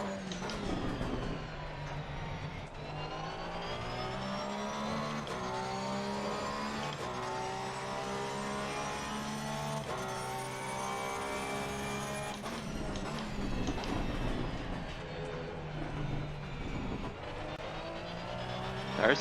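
A Porsche 911 race car lapping the Nürburgring in Assetto Corsa Competizione, its engine droning steadily with rising and falling revs, up close and continuous throughout, with brief tonal sweeps as gears shift.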